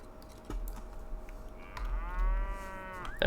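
A cow moos in LOTRO (Lord of the Rings Online) on a farm, one drawn-out, clear low call rising partway through over soft game ambience and faint clicking.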